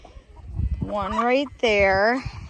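Homestead rooster nearby makes two drawn-out, strongly voiced clucking calls in quick succession, loud and close, with faint rustling before them.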